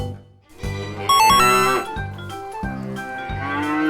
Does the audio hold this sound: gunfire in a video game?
no